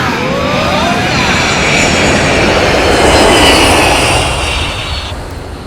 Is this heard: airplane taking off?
yes